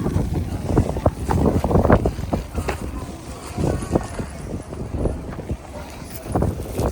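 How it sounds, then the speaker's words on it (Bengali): Gusty cold wind buffets the microphone in a steady rumble while people talk nearby at a crowded outdoor market on a winter morning. "বাপরে কি ঠান্ডা বাতাস দেখো"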